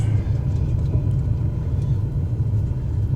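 Aircraft braking hard on a runway in Microsoft Flight Simulator 2024, a steady loud low rumble of rolling wheels and engine noise that holds constant throughout, with no voices.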